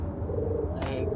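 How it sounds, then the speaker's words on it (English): A bird coos in a PS2 platform game, a short burst of cooing over steady game music and background sound. "Get out, you stupid bird!"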